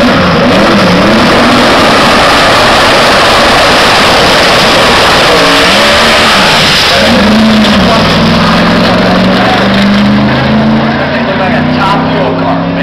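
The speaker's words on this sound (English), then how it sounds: "Mike is just going to motor right on down the track" A drag race car screams down the track at full throttle, loud and close, its engine note sweeping and rising in pitch through the gears. A crowd murmur and an announcer's voice run underneath.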